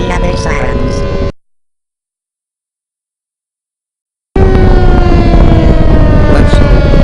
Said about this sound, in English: It's a new siren called Stormwatcher.